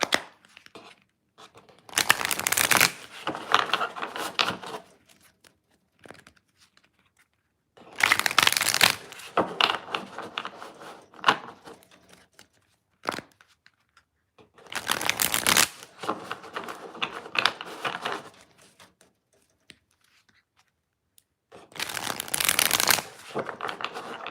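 Large tarot cards being shuffled by hand in four separate bursts of dense, papery riffling, each lasting a couple of seconds and set apart by quiet gaps, close and clear with no talking.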